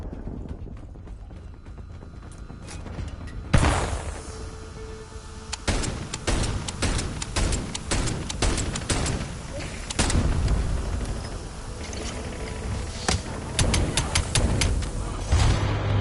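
Gunfire in a video game battle comes as sharp, scattered bursts and single cracks over a low rumble. The shots are moderately loud, with mechanical clatter between them.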